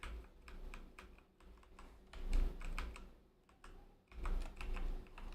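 Keys clatter on a computer keyboard in bursts of quick, close clicks, pausing briefly before another run of typing resumes, with a low background hum underneath.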